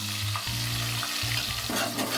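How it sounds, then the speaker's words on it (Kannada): Onion paste frying in a pan with cinnamon and cardamom, a steady close sizzle with scraping stir strokes of a spoon against the pan, with no voices. "ಈರುಳ್ಳಿ ನಾವು ಕಂದು ಬಣ್ಣ ಬರೋವರೆಗೂ ಹುರಿಬೇಕು."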